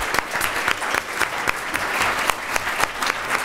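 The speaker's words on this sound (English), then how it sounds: "I'd like you to all continue clapping for our wonderful panelists." An audience gives continuous applause for the panelists at the end of a panel discussion. The dense, steady clapping lasts about three and a half seconds, with a faint crowd murmur beneath it.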